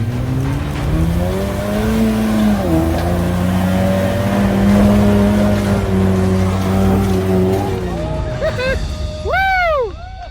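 Car engine held at full throttle on a rough road, a loud sustained drone that rises and shifts in pitch, ending in a sharp tire squeal.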